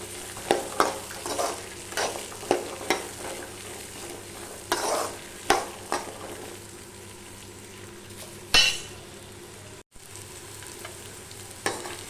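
Onion, green chili, garlic and a gooseberry-sized piece of tamarind sautéing in a pan for Pirandai chutney, a steady sizzle broken by several sharp scrapes and clinks of stirring, with no talking.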